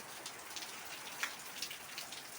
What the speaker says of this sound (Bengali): আমাদের এইদিকে এখন বৃষ্টি হচ্ছে